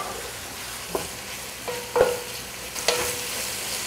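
Onions frying in a little oil as a spatula stirs them for chicken biryani: a soft, steady sizzle broken by a few sharp scraping clinks against the pan, close and fairly quiet.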